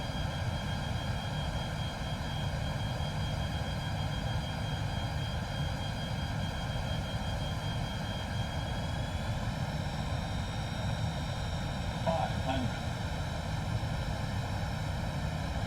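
A Fokker F28 jet airliner on final approach in Microsoft Flight Simulator drones with a steady, loud engine roar and sustained whine, holding constant throughout without talk.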